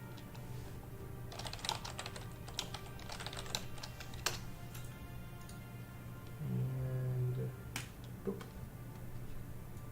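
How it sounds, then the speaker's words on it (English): Mechanical computer keyboard typing picked up closely by a microphone, irregular bursts of sharp clicks and clacks over a low steady hum, with keys tapped in short clusters and pauses. "it's just the sound of the keyboard. It's amplified by the microphone."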